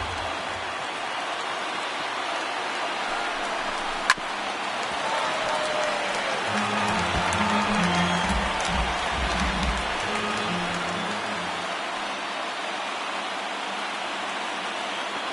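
Stadium crowd of over 38,000 in MLB The Show 19 roars in a steady, broad wash of cheering, with a single sharp crack near the start and the swell continuing loud throughout, under low commentary.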